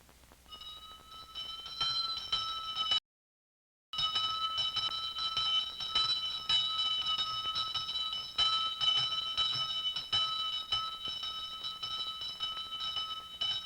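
A temple bell rings rapidly and continuously during a Hindu ritual, giving a bright, sustained metallic clangor with a brief drop to silence before resuming, heard clearly with no speech.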